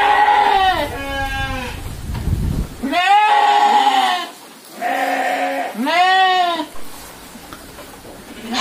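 Sheep just unloaded after a long trip from another town bleating loudly and close by, several long wavering calls in a row with brief pauses between them.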